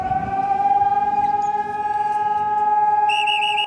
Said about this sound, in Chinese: 航空警报声开始弹